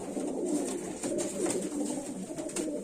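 Fantail pigeons coo in a steady, overlapping murmur of soft low calls that carries on throughout without any talking.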